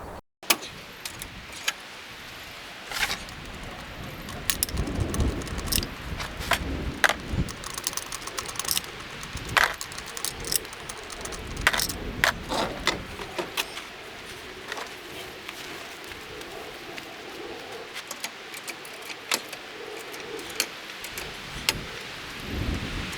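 Removing the front tire of a vehicle with an oil leak: a long run of metallic clinks, jangles and tool clatter, irregular and close, with scattered sharp knocks and a rumbling background.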